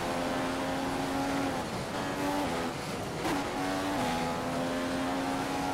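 Manor Marussia Formula 1 car in the racing video game F1 2015 at Spa, a loud, continuous engine whine that rises through the gears, with brief dips on downshifts, heard from onboard.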